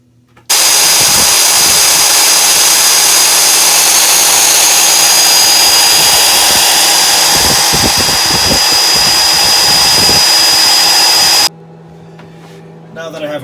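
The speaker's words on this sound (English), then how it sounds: "Now that I have a working bilge blower, I run it while I'm fueling." A boat's bilge blower runs during fueling with a loud, steady whooshing roar that starts abruptly and cuts off near the end, with faint handling knocks beneath it.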